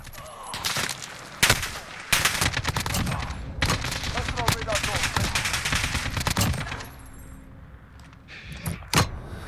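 An RPK machine gun in Call of Duty Modern Warfare fires repeated bursts, sharp close cracks in rapid strings with short pauses between, ending in a few scattered single shots as the action quiets.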